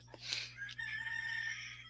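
A rooster crows nearby in a drawn-out, loud call that rises and holds, heard over a steady low hum in the background.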